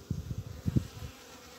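Honeybees working inside a beehive give a faint, low buzz that pulses in short uneven bursts for about a second before fading out, with no talk.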